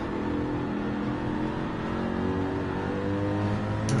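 Racing car engine in Gran Turismo 7 holding high revs as a steady, loud drone with a constant whine throughout, no voices heard.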